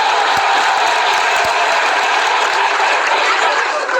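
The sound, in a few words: audience clapping loudly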